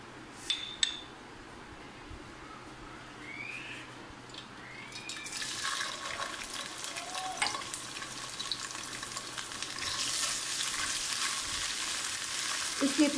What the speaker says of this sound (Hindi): इसे इतना भुनेंगे कि इसका खुशबू आनी शुरू हो जाए